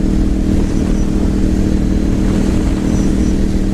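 A Honda motorcycle engine runs loud and close, a steady deep rumble with a throaty V8-like tone that holds evenly with no pauses and no voices over it.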